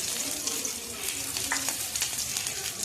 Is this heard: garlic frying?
yes